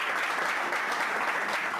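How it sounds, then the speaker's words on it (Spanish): Steady, dense applause from a lecture audience welcoming a speaker to the stage, a continuous wash of clapping hands throughout with no voices over it. "fuerte el aplauso"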